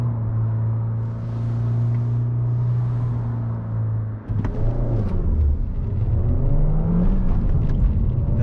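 A 2019 Suzuki Vitara in sport mode with traction control off, engine holding steady revs near the launch point before dropping, then pulling away and rising in pitch through the gears, a loud close drone throughout.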